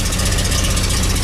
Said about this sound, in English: Pretty good sounding bus.